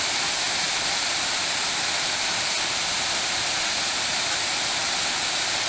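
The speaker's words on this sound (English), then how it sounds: "It's a beautiful waterfall." Steady roar of a waterfall on a hiking trail, a constant broadband rush of falling water heard alone and filling the whole scene.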